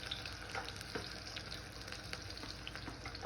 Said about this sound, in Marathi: याच्यामध्ये आपण कांदा टाकूया। तेल असं चांगलंसं तपलेलं आहे।